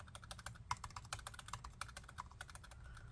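Rapid, light plastic key clicks from a MacBook Pro butterfly keyboard, slightly clickier from a leftover plastic film, tap out a quick irregular typing rhythm, close and quiet, with no voices.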